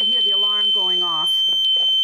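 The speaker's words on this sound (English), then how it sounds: "Already you can hear the alarm going off." An earthquake detector's alarm sounds as one steady, piercing high-pitched tone that runs through the whole stretch while someone talks nearby.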